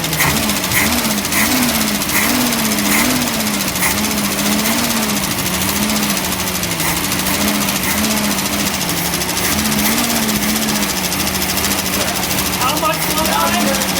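A cold 1965 Ford Mustang engine with an untuned carburetor runs steadily and loudly nearby, its rough idle pulsing and wavering throughout while people talk over it.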